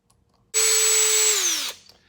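A power drill runs a single steady burst of just over a second while tightening fuel pump screws on a 1988 NASCAR Buick, its whine close and loud before winding down in pitch at the end.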